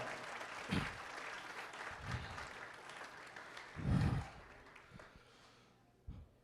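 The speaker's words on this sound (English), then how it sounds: "Let's give her a big round of applause." Luncheon audience gives a round of applause, soft and somewhat distant, with scattered clapping and a few louder swells and bursts over a low room hum.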